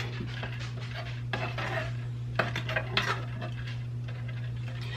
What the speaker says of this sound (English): I'm just going to make sure I constantly stir it